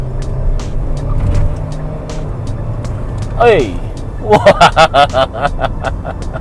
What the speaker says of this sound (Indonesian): Kita belok dengan speed yang lumayan tinggi. Oke, kita gas.